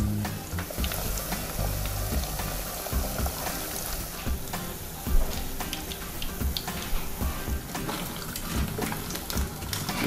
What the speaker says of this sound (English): Okay, now I have to fry.